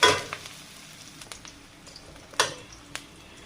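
Chopped onion, green chili and cumin fry in oil with a quiet, continuous sizzle, punctuated by a few sharp clinks and pops from stirring, no talk.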